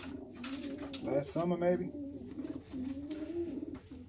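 Pigeons or doves coo nearby in a steady low murmur, the calls overlapping a voice as he talks over them.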